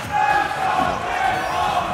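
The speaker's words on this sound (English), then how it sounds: "All of them cheering on their boy." A large crowd at a Super Smash Bros. for Wii U tournament in Southern California chants and cheers in a steady loud roar, with a commentator talking over it.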